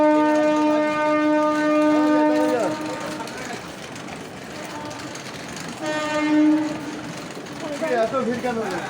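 A train at a busy railway station platform, with a long sustained horn that sounds twice amid rumbling carriages and crowd noise, people talking nearby.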